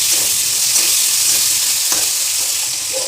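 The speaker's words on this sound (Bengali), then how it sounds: "আলুগুলো ভেজে নেব" Potatoes frying in hot oil in a wok give a loud, steady broadband sizzle with a few faint scrapes and clicks over three seconds, with no voices.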